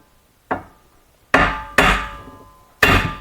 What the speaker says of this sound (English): Now you're gonna have to tap that joint over there to disconnect it.